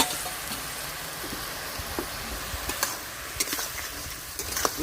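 Kharkol leaf stalks sizzle steadily in a pan while being stirred, with a constant soft frying hiss broken by occasional light scrapes and taps of the spoon; no voices are present.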